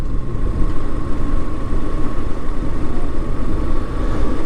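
Vehicles, including trucks bound for India, idle in a traffic jam at the Banglabandha border crossing in Panchagarh, Bangladesh, giving a steady, loud, close engine rumble with no pauses.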